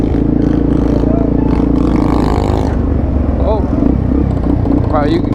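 Motorcycles rumble and rev in a crowded Times Square ride out, a dense, continuous engine roar with passing throttle blips and scraping clatter, while people shout and talk nearby.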